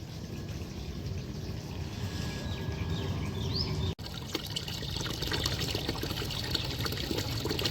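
Water gushing and splashing from a hand-operated pump at an outdoor tap, a steady loud trickling and pouring flow that continues without pause, with a brief cut midway and no speech.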